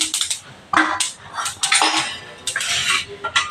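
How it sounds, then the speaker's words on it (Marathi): A cooking pan being lifted off the stove while preparing traditional cabbage bhanole, with sharp metallic clinks and scrapes of metal on metal in quick irregular bursts, close and fairly loud. "आता हे मी पॅन खाली उतरणार आहे"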